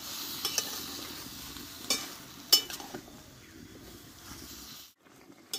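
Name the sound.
tomatoes being sautéed in a pan for tomato chutney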